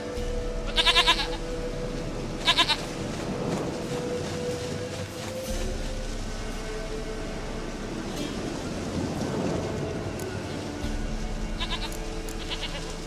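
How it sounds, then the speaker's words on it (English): Goat bleats from The Witcher 3 video game, two short loud bursts near the start and another pair later, over a steady game ambience. "Goat of mine, dearest, sweetest goat."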